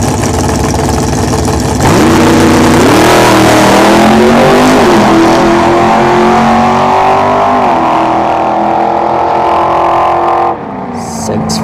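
Drag racing car at ShowTime Dragstrip during test-and-tune, engine loud and close, idling rough, then revving and pulling hard in one long rising run before cutting off near the end.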